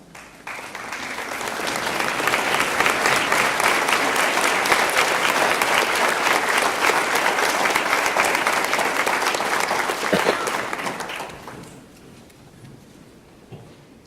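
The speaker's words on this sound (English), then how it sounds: "stand now and be recognized by a round of applause" Sustained applause from a large audience at an honors convocation recognizing honor society members, building over two seconds, holding loud and even, then fading out near the end.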